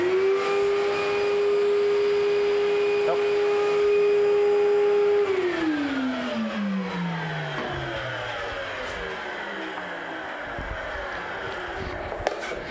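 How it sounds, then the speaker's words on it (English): A loud vacuum cleaner drones at a steady pitch for several seconds, then winds down with a falling whine as the motor slows. "This is going to be horribly loud because my vacuum cleaner sounds terrible."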